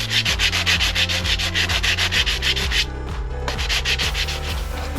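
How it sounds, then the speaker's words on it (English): Rapid, rhythmic hand sanding of body filler on a motorcycle panel with a sanding pad and 400 grit wet and dry paper, close and continuous back-and-forth rubbing strokes. "I've got this sanding pad here and some 400 grit wet and dry to finish off. So we'll just give that a rub"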